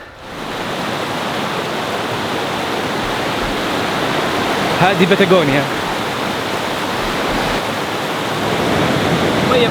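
Glacial meltwater streams in Patagonia rush steadily into a lake, giving a constant broadband roar of flowing water, with a brief spoken remark rising over it midway.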